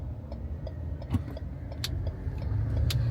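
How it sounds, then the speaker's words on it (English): Street traffic in Orlando rolls past, a steady rumble of car engines with a swelling pass toward the end, some light clinks in between and no talk. "we got this ghetto traffic again going on here"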